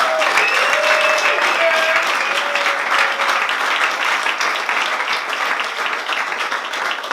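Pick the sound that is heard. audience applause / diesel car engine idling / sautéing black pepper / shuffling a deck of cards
audience applause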